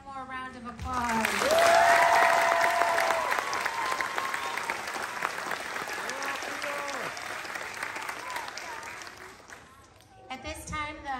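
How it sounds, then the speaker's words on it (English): Applause from an audience of families at a preschool graduation, a broad wash of clapping that swells early and then gradually fades, with voices and cheering mixed in and talk at the edges. "let's give all of our graduates one more round of applause."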